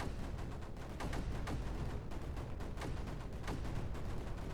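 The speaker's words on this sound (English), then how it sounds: "let's throw down some more mortars now" Mortars firing in the strategy game Creeper World 4: a dense, continuous barrage of overlapping synthetic booms and sharp cracks, steady and loud throughout with no talk.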